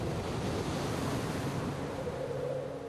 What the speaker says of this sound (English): It's just a build-up of waves here, that it's one after the other